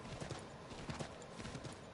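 A horse clip-clops at a steady trot in Assassin's Creed III, rhythmic hoofbeats over a busy game soundscape, fairly faint overall.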